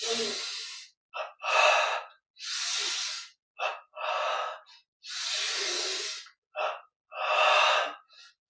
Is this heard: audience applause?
no